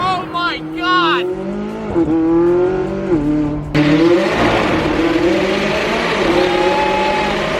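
A loud-exhaust sports car revs hard inside a tunnel, its rising and falling engine notes echoing off the walls, then a sudden louder blast as it accelerates past, the roar lingering and reverberating.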